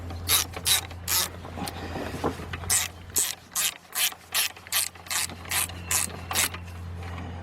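A hand ratchet loosens a nut on the starter of a BMW 745i, giving a run of crisp, evenly spaced clicks close up, with a few scraping metal sounds before the steady clicking begins.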